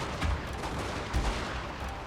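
Wooden artillery firing in the Total War game Fall of the Samurai, with two deep booms about a second apart over a low, steady battlefield rumble.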